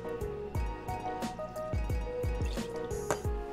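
About 15 ml of vodka is poured into a Long Beach iced tea cocktail, a close, rhythmic run of quick liquid glugs and drips, with no talking.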